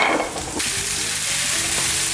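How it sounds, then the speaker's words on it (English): Chopped onions sizzle in hot oil with golden-browned spices in a frying pan, a loud, close, continuous crackling hiss that surges briefly as they are stirred. "The oil's sizzling, the spices are golden brown."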